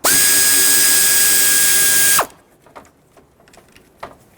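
A power tool runs loudly and steadily on an 8mm bolt holding the AC condenser to the radiator on a 2012-2020 Nissan Pathfinder, then stops abruptly, followed by quiet clicks and taps of the tool and parts.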